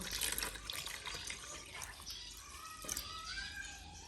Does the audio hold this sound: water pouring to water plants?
yes